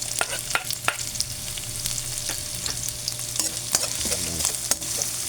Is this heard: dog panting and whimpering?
no